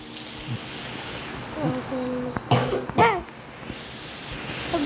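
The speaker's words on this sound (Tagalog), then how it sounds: "Nagulat ako sa ubo mo" A couple of sharp coughs burst out close up amid brief murmured voices and a steady background hiss.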